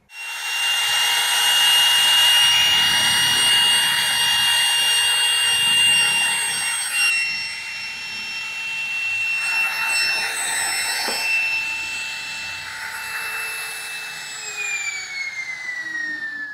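DongCheng DMP02-6 trimmer router spinning up to about 28,000 RPM with no load, a loud steady high-pitched whine that holds throughout and shifts slightly in pitch near the end.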